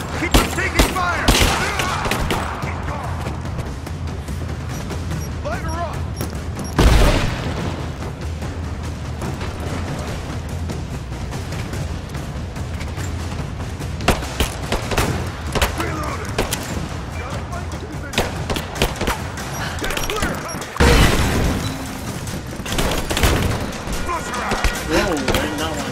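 Gunfire and explosions in the video game Rise of the Tomb Raider, with scattered shots and a couple of heavy booms amid a continuous battle din, under excited talk from a player throughout.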